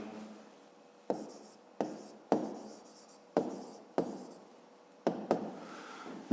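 Pen or chalk writes out a maths solution in short bursts, each stroke opening with a sharp tap and trailing into a brief scratchy scrawl, about eight separate strokes with quiet pauses between.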